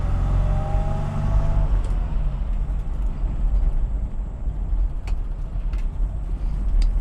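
A 1972 Moskvitch IZH 412 car pulls away and shifts gears, its engine droning steadily and close with a low rumble, a pitch drop at a gear change early on and faint clicks later.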